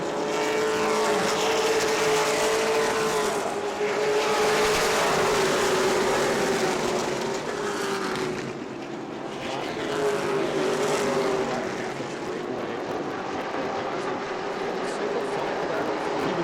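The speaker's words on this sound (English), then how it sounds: "you can see the lead car starting to scoot away" Race cars circle the track at New Smyrna Speedway during World Series racing, a loud continuous engine roar with rising and falling pitch as cars pass, the sound briefly dipping before surging again.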